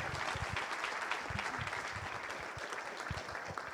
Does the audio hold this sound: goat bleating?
no